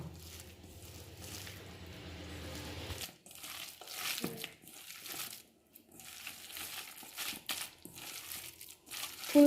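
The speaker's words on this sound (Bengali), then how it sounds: "এর মধ্যে আমি এবার ফুলগুলো দিয়ে দেব। ফুলগুলো দিয়ে ভালো করে এতে মাখিয়ে নেব।" Chopped drumstick flowers are worked by hand into a thin water batter, making wet squishing and crinkling sounds, a steady low rustle at first, then short separate squelches with brief pauses.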